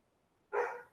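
A single dog bark rings out sharply, moderately close, in an otherwise quiet indoor setting.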